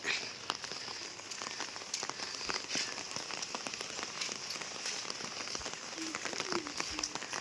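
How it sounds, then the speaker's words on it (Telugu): Heavy rain falls outside during a days-long downpour, a steady dense hiss of drops pattering on surfaces with scattered louder ticks, continuous and even throughout. "పైన వర్షం కురుతుంది ఫుల్గా"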